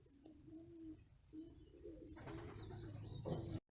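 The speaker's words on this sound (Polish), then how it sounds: "No i teraz schodzi z góry biały gołąb i siwy." A white pigeon and a grey pigeon landing at a home loft after a training flight, with soft repeated cooing and bird calls over steady outdoor background noise.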